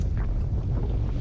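A sailboat under way in open water off Long Island, heading for the Crooked Islands, with heavy wind buffeting and low water rush, loud and continuous, no voices.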